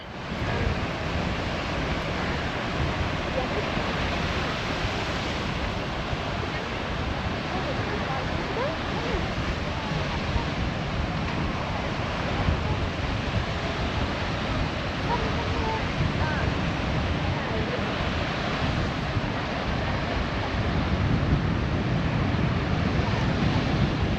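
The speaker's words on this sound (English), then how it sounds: "I don't know why you're going to hear me over the wind" Strong wind buffets the microphone in a steady, loud roar, with surf-like rushing noise underneath and no clear voices.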